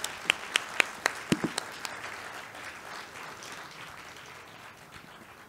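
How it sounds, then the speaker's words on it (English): Audience at a literary conversation event applauding the Booker Prize winner, a few loud close individual claps opening into a softer, more distant spread of applause that gradually tapers off. "a huge round of applause for the Booker Prize winner"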